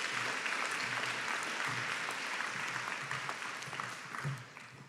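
A graduation ceremony audience applauds candidates from an autism studies certificate program, steady mid-distance clapping throughout that gradually thins and softens near the end, with no talk.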